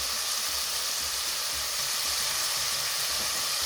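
Garlic hitting a hot pan of sautéed spinach with meat and fish, African style: a steady, loud, even sizzle and frying hiss that fills the whole stretch without pauses.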